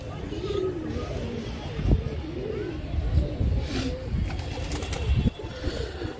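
Pigeons, including newly arrived birds, coo repeatedly in soft rolling calls close by over a low background hum, with some brief talk.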